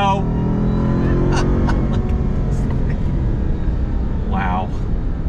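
A 2021 Ram TRX pickup truck drives under throttle, its engine a loud, steady, close drone throughout, with brief higher whines rising over the rumble.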